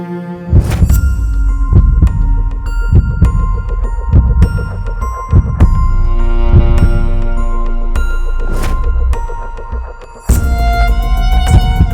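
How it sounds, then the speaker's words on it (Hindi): A slow, steady heartbeat thuds at regular intervals beneath ringing musical chimes and sustained tones, close and prominent throughout. "तुम चाहो तो मेरी दिल की धड़कन को सुन भी सकती हो"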